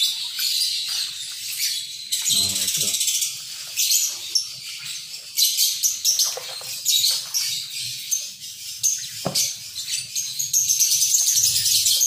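Cucak ijo (green leafbirds) in a cage chirp with high, rapid, continuous twittering and trills, close and fairly loud, with occasional fluttering and rustling beneath.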